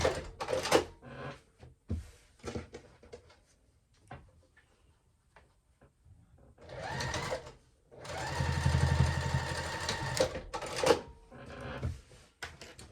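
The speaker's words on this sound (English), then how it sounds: "So I just start at the top of the first pocket and just stitch down until I can feel the bottom of that last pocket." A sewing machine basting down the card pockets of a clutch runs in short stitching bursts, with a longer steady whir near the end, mixed with clicks and handling of fabric nearby.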